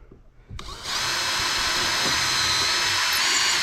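A power drill bores a screw hole through fiberglass into wood on a 1976 mahogany boat, starting after a quiet moment and spinning up to a steady, loud, close whine.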